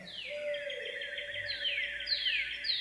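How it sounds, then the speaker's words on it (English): Faint birdsong drifts from a quiet natural valley, a repeated descending trill over a soft steady tone, distant and low in level with no voices. "we can barely make out birdsong."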